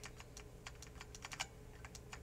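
Quick taps on an iPad or iPhone touchscreen keyboard, a short run of soft irregular clicks close by and very quiet, with no talking.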